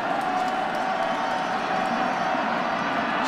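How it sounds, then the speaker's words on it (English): A large stadium crowd at a college football game between NC State and Clemson at Memorial Stadium, a steady broad roar filling the air continuously with no distinct claps or cheers standing out. "Memorial Stadium usually rocks, but I think this crowd right now is a little disheartened."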